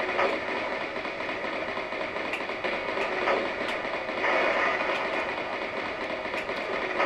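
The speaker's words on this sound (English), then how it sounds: "Train." A train rumbles and clatters in the Amiga shoot-'em-up Banshee, a steady mechanical rolling noise with rhythmic clicks, moderately quiet and continuous through the whole stretch.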